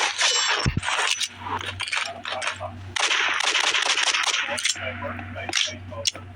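Handgun fire in the Roblox game Rivals, rapid loud shots and metallic clinks crowding the soundtrack, with a voice talking over the action.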